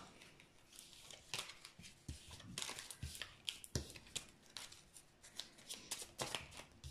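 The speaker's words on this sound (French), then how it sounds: "Oh, j'ai mes cartes qui se sont mélangées." Tarot cards are shuffled and mixed by hand, giving soft, quiet riffles and papery slides in irregular bursts, close but faint, with no talk.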